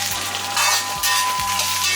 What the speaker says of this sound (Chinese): 小火不停翻炒，海椒炒到颜色变色就可以了